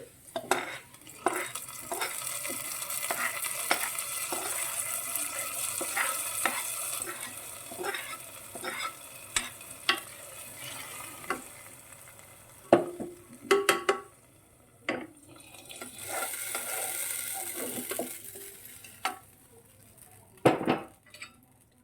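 Fried mustard seed tempering is added to a pan of asthram and stirred, with repeated scraping and clinking of a spoon against metal and a faint sizzle, no talking.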